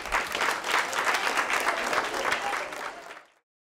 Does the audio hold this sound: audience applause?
yes